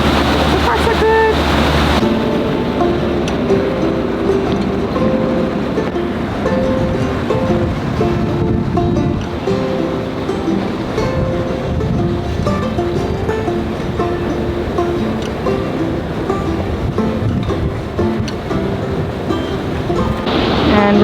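Steady rush of water and waves against the hull of a Riviera cruising yacht leaving a marina, with wind noise and a low engine hum, continuous throughout, with brief voices faintly underneath.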